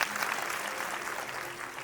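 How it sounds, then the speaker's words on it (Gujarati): An audience claps together in sustained, dense applause, loud and even for the whole stretch, at a gathering honoring a guest on stage. "આપણે વંદન કરીએ એકવાર જોરદાર તાળીઓ થઈ જાય સાહેબાના માટે"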